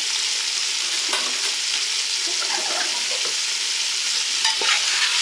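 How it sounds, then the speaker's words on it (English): Peppercorns stirred in a pot while making turkey gravy from scratch produce a steady frying hiss with scraping and light knocks of the spoon, close and continuous, with no speech. "And then to that, we just do some stirring, keep it from sticking."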